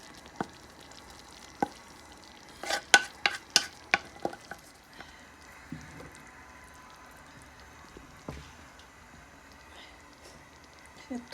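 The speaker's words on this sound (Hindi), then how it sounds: "चिकन को अब हम हलीम में मिक्स करेंगे।" Chicken stirred into thick haleem in a pot, a quiet clatter of a spoon knocking against the pot in a quick run of strikes, then sparse occasional taps over a faint background.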